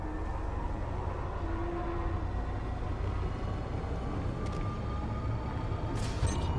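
A moving train in the video game Apex Legends, heard as a steady, continuous low rumble and rolling noise at even loudness, with a few faint brief metallic accents near the end.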